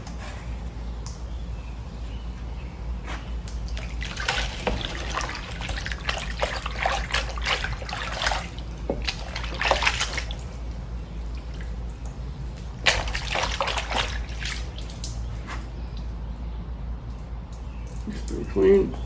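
Water with a little surfactant is stirred for recovering flour gold, giving bursts of trickling, sloshing liquid with pauses between them over a low steady hum. The sound is close and moderately loud, and a voice talks at times.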